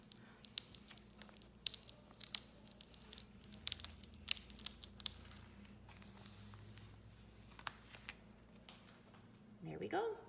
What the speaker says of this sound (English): we want everything to stick and this clear plastic transfer tape to come off